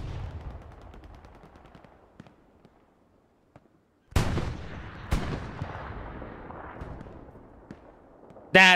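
Tank cannon blasts in the Hell Let Loose game during a competitive match: two loud booming shots roughly a second apart, each with a long rumbling decay, followed by another sharp blast at the end.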